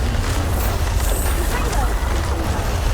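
Bombarda blasting spell cast in Hogwarts Legacy, a dense sustained roar of blast energy with deep rumbling low end and a bright hiss on top, loud and continuous over three seconds with no clear separate hits.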